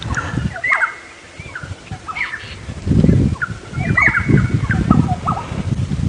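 Several short, bright bird calls ring out over a low rumble of wind or water on an African safari drive, repeating irregularly at moderate distance.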